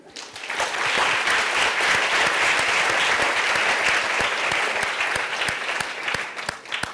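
A room of students applauds at a youth leadership class, dense, even clapping that swells in quickly and holds loud and steady before tapering at the end.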